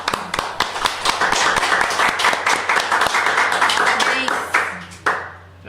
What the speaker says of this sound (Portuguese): agora a salva de palmas é para vocês.